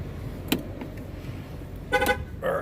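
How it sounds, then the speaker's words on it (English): A 2017 Cadillac XT5 gives short electronic beeps confirming a key is inside the car, two brief chimes over a quiet background. "there's my beep to confirm that it knows that there's a key in the car."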